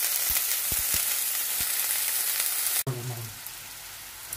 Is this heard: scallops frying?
yes